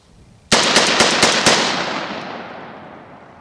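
LionX6 tactical shotgun from Advanced Tactical Imports, made by Derya Arms, fired rapidly at a live range: five loud, close blasts in quick succession, about a quarter second apart, followed by a long fading echo.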